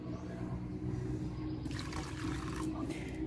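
Water poured into a pan for a sugar-based mixture to brighten stainless steel and aluminium pans, a splashing stream that starts halfway through over a low background hum.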